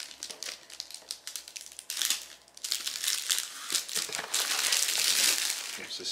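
Christmas gift wrapping is torn open and crumpled by hand, crinkling loudly and continuously up close, growing busier and louder midway, with faint voices in the background.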